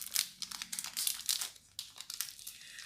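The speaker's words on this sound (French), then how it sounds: "Je suis tellement doué pour ouvrir les cartes" Crinkly plastic foil of a Pokémon card booster pack rustles and tears in quick, close, sharp bursts, with no voices.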